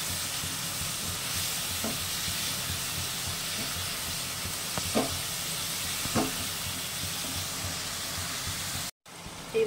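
Bhetki fish bone curry being stir-fried with a little water, a constant dense hiss and sizzle with faint scattered scrapes of a spatula, cutting off abruptly near the end.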